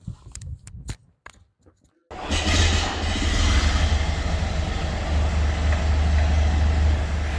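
A Landsverk L60 RC tank drives with a steady, loud mechanical rumble and whir after a few brief clicks and knocks, continuing close and unbroken.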